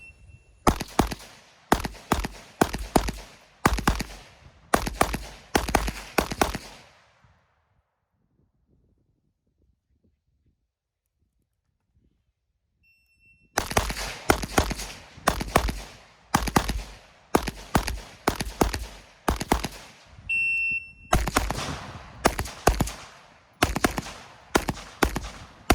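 Rifle fire during a training day, as a shooter engages targets: loud, close bursts of rapid shots in two long strings with a quiet pause between, no talking.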